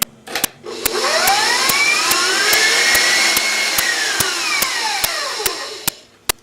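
An electric mixer creams butter at top speed, its motor whine sweeping up and falling back over several seconds, close and loud, with sharp periodic clicks running through it.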